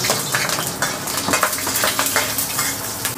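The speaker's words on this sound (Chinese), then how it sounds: "先把这个葱姜放进来炒一下" Scallion and ginger stir-fried in a wok for a home-cooked chicken dish, with a steady close sizzle, repeated scrapes and clinks of a spatula against the metal pan, and no talking.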